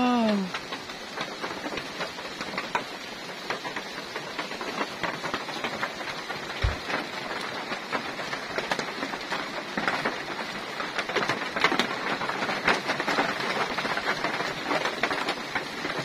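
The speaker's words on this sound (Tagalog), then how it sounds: "Ulan na, ulan na." Steady rain falls continuously on a farm, a dense hiss of drops hitting surfaces, close and even throughout, with a brief low thump partway through.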